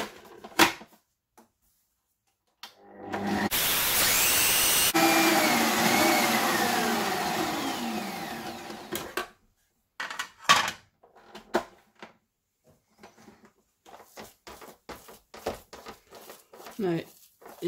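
Cream churning toward butter and buttermilk in a mixer, a loud whirring motor run of several seconds with wet, squishy sloshing, then scattered softer bumps and splashes as the machine stops and starts.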